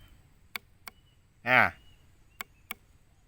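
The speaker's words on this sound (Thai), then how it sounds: "อันนี้ผมดีดอ้อยนะครับฟังนะ" Four sharp, dry flicks of a finger against a sugarcane stalk, spaced apart, with a short vocal 'ah' sounding between the first and second pairs.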